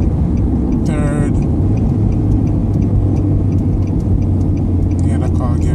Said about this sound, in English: Yeah, the car gearing down.